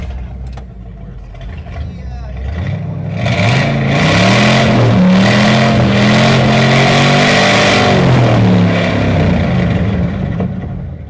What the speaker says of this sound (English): Nice engine, but what I really wanted was to hear how loud it was.